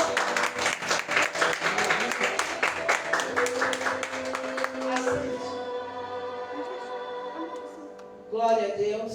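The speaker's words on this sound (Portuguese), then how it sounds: "Vamos aplaudir o Senhor." A church congregation claps for the Lord during a preaching service, rhythmic hand claps over music for about five seconds, then a held musical tone with voices returning at the end.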